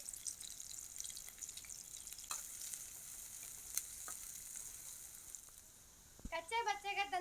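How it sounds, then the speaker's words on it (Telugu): Chopped onion pieces sizzle and fry steadily in hot oil for Cauliflower Manchurian, a continuous close crackle with a brief stir or clatter near the end. "ముందుగా చిన్నగా తరిగి పెట్టుకున్న ఎర్రగడ్డ ముక్కలైతే నూనెలో వేస్తున్నా."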